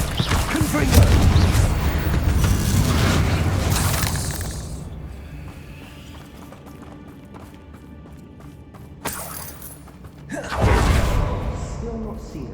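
Confringo fire-spell blasts in the video game Hogwarts Legacy, loud booming explosions with whooshing bursts early on, a quieter stretch, then a sharp crack and another heavy blast near the end.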